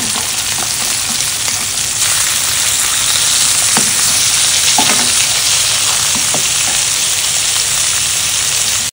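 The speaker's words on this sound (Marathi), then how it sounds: "आता या बाजूने पण थोडेसे आपण फ्राय करून घेऊया।" Loud, continuous sizzling of green masala fish frying in a pan, a dense crackling hiss that runs unbroken throughout, close up, with a few faint utensil clicks and no voices.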